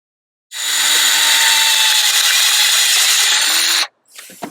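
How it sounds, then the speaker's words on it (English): A power drill bores into the EGR actuator housing of a 2.7 TDV6 engine on a Land Rover Discovery 3, whining loud and close in one steady burst of about three seconds, then a short trailing rattle. "So I've drilled 4 holes in there"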